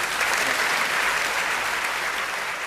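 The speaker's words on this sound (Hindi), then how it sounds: "थोड़ी बहुत तालियां मेरे लिए भी बजा देना।" Steady applause from an audience at a Hindi poetry gathering for a poet, an even wash of many hands clapping at moderate level for a few seconds with no talk.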